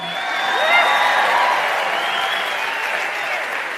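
A sermon audience bursts into loud, sustained applause with a crowd murmur underneath, clapping steadily throughout.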